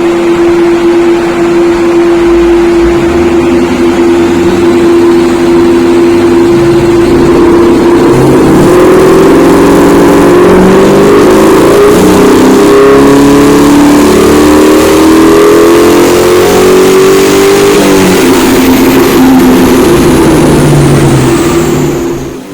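A 1998 Ford Mustang GT engine revs hard on a dyno run, loud and close, its pitch climbing in a long sustained pull before easing off near the end, with no talking.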